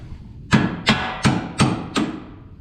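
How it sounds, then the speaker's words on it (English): Five sharp, evenly spaced hammer blows on the K-member of a 2015–2023 S550 Mustang during a BMR K-member install, each a loud metallic strike with a short decay, heard alone. "It looks like I was just hammering it wrong."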